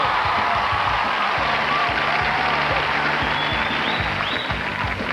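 A large television studio audience at a New Year's Eve countdown show applauds and cheers, a dense, steady wash of clapping with scattered whoops rising above it throughout.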